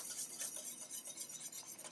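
Cooked fettuccine goes into a hot pan on high heat for Fettuccine Alfredo, giving a steady close sizzle with soft scraping and stirring noise that runs unbroken throughout.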